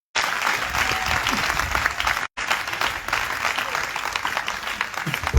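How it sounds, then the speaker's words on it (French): Church congregation at a revival testimony festival applauding together, a dense, steady wash of clapping from a large crowd with one brief break near the middle before it resumes at full strength. "on acclame le Seigneur Jésus"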